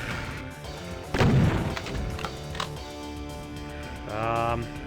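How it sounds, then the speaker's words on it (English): Heavy super shotgun blasts boom in Final Doom, set in the Prison level of an id Tech first-person shooter, over a constant backdrop of game music and ambient sound, with a second mechanical shot-like burst near the end. "switch to super shotgun"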